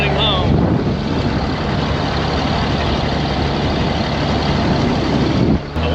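A pickup truck is towed home on a tow strap, and a continuous loud road and engine rumble with wind buffeting runs steadily throughout before cutting off abruptly near the end.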